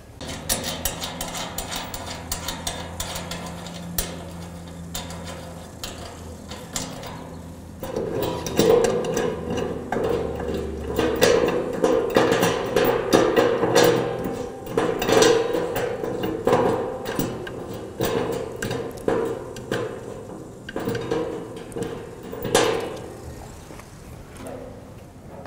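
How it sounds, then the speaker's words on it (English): A spanner works the nuts off five screws at the rear of the reflector dish on a Paradigm Connect100T terminal, with repeated metallic clicks and light knocks of the tool against hardware throughout, close and moderately loud, with no voices. "undoing the nuts on 5 screws at the rear of the reflector using the spanner that's provided in the toolkit"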